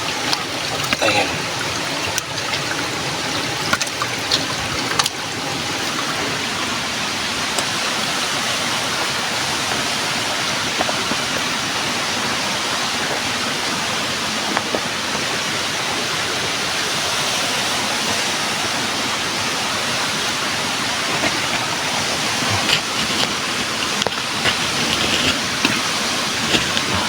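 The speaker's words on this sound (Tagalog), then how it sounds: "Yung tubig ba, no? Na nagmumula sa ibabaw." A waterfall, with water pouring down from above in a steady, loud, broadband rush that continues unbroken and close, with occasional faint sounds over it.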